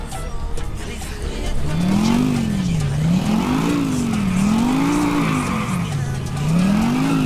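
A car in GTA IV drives with a revving engine whose pitch rises and falls while the tires squeal in long skids, loud and close, with some talk in the background.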